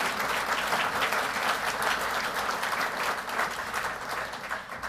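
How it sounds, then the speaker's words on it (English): Sustained audience applause fills the room at an award of valor ceremony, a dense, steady wash of clapping from many hands with no break or talk over it. "Give her a round of applause, please."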